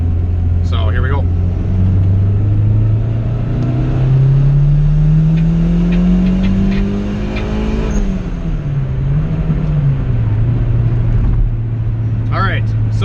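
A turbocharged B18C1 engine in a Honda Civic GSR EG hatchback revs up steadily from low to high, holding a loud, rising drone before backing off and climbing again toward its 7,000 rpm limiter with VTEC off, close and continuous.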